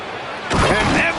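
A slam dunk by Anthony Edwards in the NBA 2K26 basketball video game lands as a sudden loud thud and crowd surge midway through, following a quieter stretch of arena ambience, with commentary speech over it.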